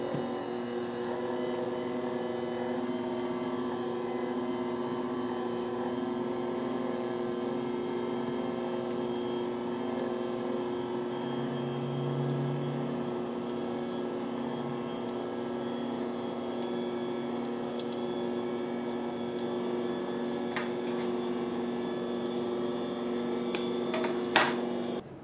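A Philips HR2357/05 Avance pasta maker runs steadily while extruding lasagna sheets, giving a continuous layered motor hum at moderate volume with a few faint clicks near the end.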